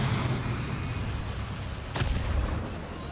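Twin aircraft guns firing one barrel at a time in War Thunder, a sharp single report standing out against a steady droning engine roar, fairly close and loud.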